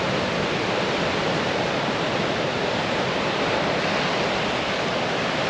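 Ocean waves breaking at a roadside beach in Cozumel, Mexico, a steady, loud broadband wash of surf with no pause across the whole stretch and no voices over it.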